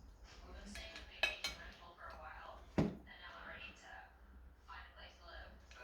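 Lamb curry with potatoes served from a pot with a spatula, a few metallic clinks and scrapes of utensil against cookware, close by, under soft conversation.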